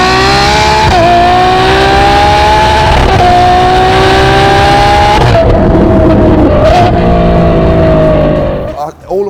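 A Ferrari 812 V12 with a Novitec exhaust in the Dubai desert, screaming hard through rising revs with sharp gear changes, loud and close, before the roar cuts off abruptly at the end.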